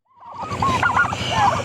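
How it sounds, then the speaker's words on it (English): Turkeys gobble in a quick warbling burst, close and fairly loud, with several overlapping calls. "turkeys got out, so gotta get them back in"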